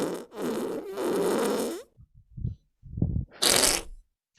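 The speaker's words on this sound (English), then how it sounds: "Farting sounds never get old." A cartoonish fart sound effect, several short bursts rising and sputtering one after another, loud and close, following a longer noisy stretch.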